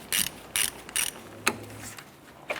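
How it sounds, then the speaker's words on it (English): Ratchet wrench loosening the positive battery terminal nut on a 1993-1997 Ford Ranger 3.0L, three quick close clicking bursts followed by a couple of fainter single clicks. "Let's go ahead and loosen our positive terminal here."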